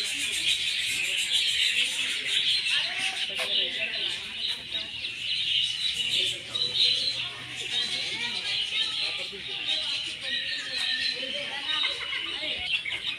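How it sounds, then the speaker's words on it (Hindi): Budgerigars and cockatiels chirp and chatter in a zoo aviary at Kanan Pendari ecological park, a dense continuous bright twittering from many birds while someone talks over them. "ध्यान सुनिए गाइस, बहुत प्यारे आवाज़ कर रहे हैं सभी चिड़िया।"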